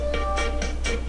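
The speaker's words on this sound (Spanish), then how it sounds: "Aquí es cuando te envían un correo, suena así." A Messenger new-email notification tone sounds alone: a series of four or five bright, evenly spaced chime-like pulses of moderate loudness.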